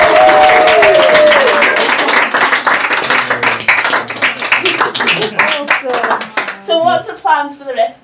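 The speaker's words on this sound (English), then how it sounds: "I think that deserves a round of applause." Guests applauding after a handfasting ceremony at the Gretna Green blacksmith shop; loud, close clapping from a small group that thins out into scattered claps and voices toward the end.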